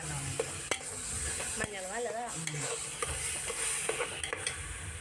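Biryani mixture sizzles in a pan while being stirred, a constant frying hiss with repeated scraping strokes and a brief voice in the middle.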